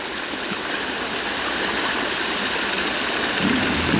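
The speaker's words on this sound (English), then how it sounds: "there's definitely a lot of water here" Heavy summer runoff rushes down a hillside stream in a steady, loud, close-up roar of churning water, with no voices over it.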